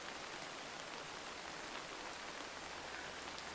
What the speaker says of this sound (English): It's only rain.